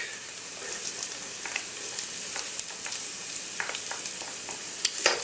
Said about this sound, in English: I'm going to add our garlic.